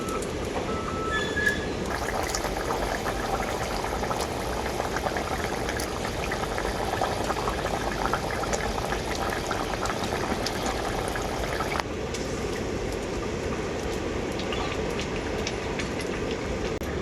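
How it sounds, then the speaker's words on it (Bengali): Shol fish curry broth boils in a pot after fried fish pieces go in, making a steady, dense bubbling hiss that runs throughout with a slight shift in texture partway, no talking. "ভেজে রাখা মাছ দেওয়ার পর ঝোলটা আমি খুব ভালো করে ফুটিয়ে নিয়েছি"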